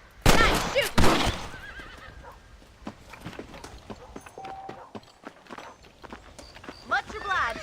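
Horses in Red Dead Redemption give sharp, loud whinnies at the start, then hooves clip-clop in a brisk, uneven rhythm, ending with another neigh, as someone speaks over part of it.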